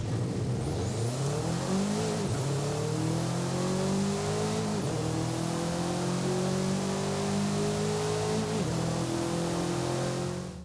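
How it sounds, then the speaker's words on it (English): Video game engine sound of a Subaru WRX boxer engine in Forza Horizon 5, revving hard with rising pitch through several gear changes, each shift giving a brief dip before the next climb, loud and close, with no talk. "let's go ahead and take a listen to that beautiful boxer engine"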